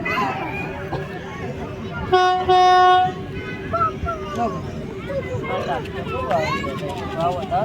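Small amusement park ride train rumbling along with a bright horn toot, surrounded by chatter and excited voices of a crowd nearby.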